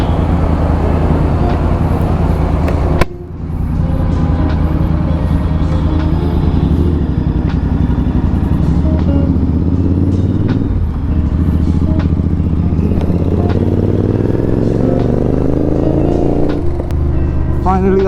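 Dense road traffic in Gurgaon heard from a moving motorcycle: a constant loud rumble of engines and road noise with passing vehicles, a rising engine whine near the end and a short gap early on.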